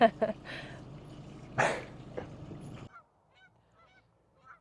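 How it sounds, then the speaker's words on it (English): Geese honk repeatedly in a short burst of calls, fairly close, then the sound drops to near silence with only faint distant noises. "probably hear the geese in the background"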